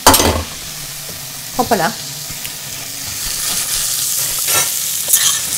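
Vegetables sizzle and crackle in a hot frying pan as they are tossed and stirred, with scraping knocks of a utensil over a steady fizz; a brief voice exclamation cuts in.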